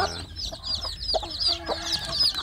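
Free-range village chicks and a hen cluck and peep close by, with repeated high chirps over soft low clucks in a steady farmyard chatter.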